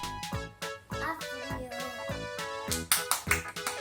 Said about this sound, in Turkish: Aferin alkış harikasın